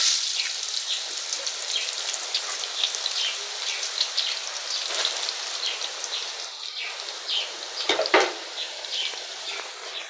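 Potato chips fry in hot oil over a fire, a steady fine hiss and crackle of bubbling with scattered sharp pops, fairly quiet and with no talking.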